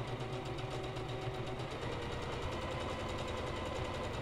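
A sewing machine runs steadily, lock-stitching through a fabric face mask with a filter layer, its close, continuous mechanical hum and rapid needle rhythm filling the moment with no voices.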